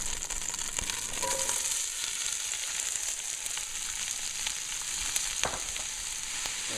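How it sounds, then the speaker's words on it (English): Onions frying in olive oil in a pot, a steady broadband sizzle running evenly throughout with a few faint scrapes or pops, no talking over it. "now we're going to throw in our onions"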